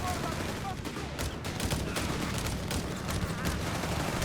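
Dense battlefield gunfire from the real-time strategy game Company of Heroes 3, with overlapping rifle shots, bursts and distant explosions in a constant loud fusillade, while a caster talks throughout.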